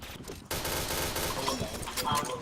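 Rapid automatic gunfire in a Pantheon video game match, a dense, continuous burst of shots that starts abruptly after a brief pause and keeps going, fairly loud and close.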